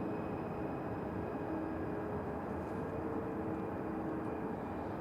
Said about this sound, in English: coming into land then in a moment or two is a Ryanair 737 MAX 8-200, which is arriving from Rome